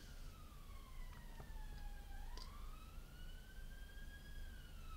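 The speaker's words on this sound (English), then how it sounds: "Sorry for the sirens if you heard that." Emergency vehicle sirens from a nearby road, a rising and falling wail sweeping across the whole stretch, heard at a moderate distance over steady background noise with no talk.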